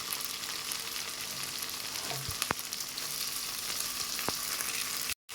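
Tomatoes sautéing with ginger garlic paste in a pan for an oyster mushroom gravy, making a constant close sizzle broken by a few sharp clinks of a utensil and a brief dropout near the end.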